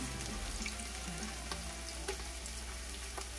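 Onions frying in a pan for chicken lo mein, a low steady sizzle with occasional soft clicks, faint and close, no voices.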